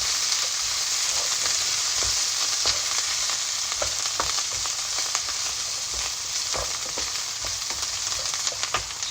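Coriander stems frying in hot fat for butter chicken, a dense continuous sizzle with occasional clinks and scrapes of a spoon stirring the pan, close and steady with no talking.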